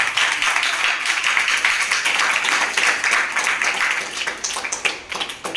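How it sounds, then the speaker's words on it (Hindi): A crowd applauds with brisk, dense clapping that thins out and fades toward the end. "जोरदार तालियों के साथ।"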